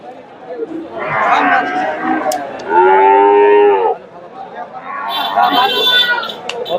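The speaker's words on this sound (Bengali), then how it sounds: "ফ্রিজিয়ান জাতের বকনা এই যে" Friesian heifers low with long, loud moos at a busy cattle market in Bogura, Bangladesh, two or three calls close by amid crowd chatter and talk.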